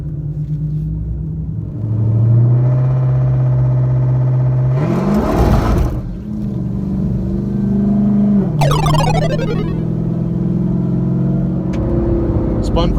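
A 1000 horsepower Dodge Charger Hellcat launches on a drag strip pass, a loud, close engine roar that rises and climbs through gear changes with a tire-spinning whine, heavy rumble throughout.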